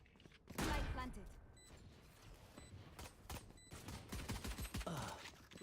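Gunfire in Valorant: a loud burst of rapid shots opens, followed by scattered sharp bangs and later a string of quicker pops, mixed with game effects and faint voice chatter.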